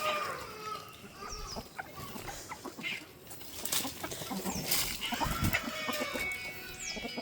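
Native chicks about two months old cluck and peep in a small farm-sale flock, with overlapping chirps and calls scattered across the whole stretch and no talking.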